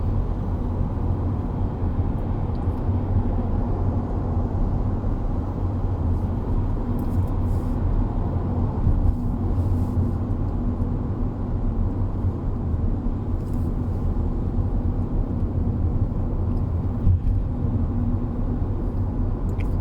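A Nissan Almera 1.0 Turbo drives through city traffic, heard from inside as a steady low engine and road rumble at moderate level, with no talking.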